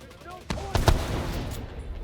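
Gunshots from the video game The Division 2 crack out in a few loud, sharp bursts with a rumbling, noisy tail, fairly close and without speech over them.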